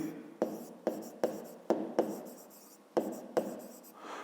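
A pen writes a math formula on paper by hand, making quiet scratchy strokes in short repeated bursts with small gaps, close and soft.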